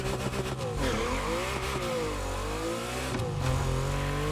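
A Porsche 918 Spyder in the racing game The Crew Motorfest starts up and revs, the engine note rising and falling through several sweeping throttle blips, loud and close.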